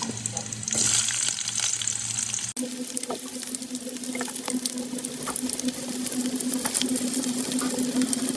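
Garlic frying in a pan with a continuous loud, dense sizzle and faint stirring scrapes, the sizzle changing character after a couple of seconds and continuing steadily.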